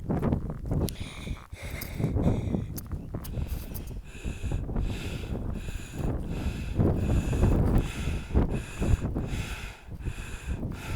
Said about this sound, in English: It is so windy. I don't know if you can hear it.